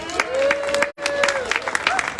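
Short applause from an audience after a musical performance at a downtown history event, a modest patter of clapping mixed with crowd murmur and a sustained tone beneath.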